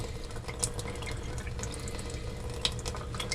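A hotel bathroom sink tap with weak flow at a Holiday Inn Express slowly fills a small coffee cup for a Keurig maker, giving a steady, close hiss of running water with occasional faint drips.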